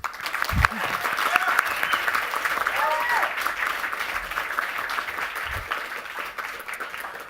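An audience at a literary reading event claps steadily to welcome a speaker to the stage, a sustained, even round of applause with a couple of louder thumps near the microphone.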